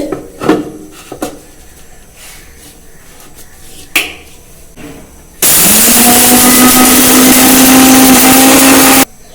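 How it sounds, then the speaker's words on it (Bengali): An electric mixer grinder pulverising cooled roasted spices into powder, preceded by a few knocks and rubbing handling sounds, then a loud steady high whine for about four seconds that cuts off abruptly. "এবার আমি এটাকে বেটে নেব, গুঁড়ো করে নেব, গুঁড়ো করে পাউডার করে নেব মিক্সিতে।"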